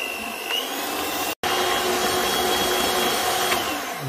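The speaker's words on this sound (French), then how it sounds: "Et là, je fouette pendant environ 1 minute." Vanilla and sugar are whisked together for a homemade flan, a continuous close mechanical whirring buzz that runs steadily and cuts out for a split second partway through.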